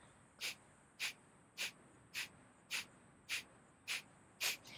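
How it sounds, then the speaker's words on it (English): Kapalabhati breathing: eight sharp, forceful exhalations through both nostrils come at a steady rhythm about every 0.6 seconds, each a brief close hiss with quiet passive inhales between. "it involves a active out breath through the nostrils, both nostrils at the same time, and a passive in breath"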